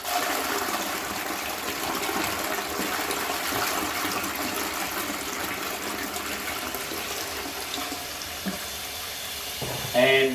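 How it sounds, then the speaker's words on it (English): A flushing toilet, a steady rushing, gurgling wash of water running continuously at moderate volume, ending with a brief louder swirl and clunk. "push the flush button"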